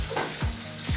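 Fish frying in a wok-style pan for sarciado, a short burst of soft sizzling with a few low thumps, fairly quiet.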